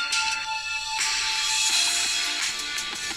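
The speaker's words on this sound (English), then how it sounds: "You can play music from the speakers on the phone." Music plays through the built-in speaker of a phone, triggered from a Samsung Galaxy Watch 4, filling the short stretch continuously at a steady, fairly loud level with a thin, bright, small-speaker quality and no talking over it.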